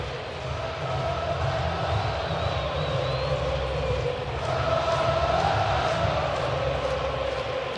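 Boisterous stadium crowd at a night baseball game at T-Mobile Park, a steady dense roar of many voices that swells slightly midway, with a faint whistle-like tone briefly rising above the broad murmur.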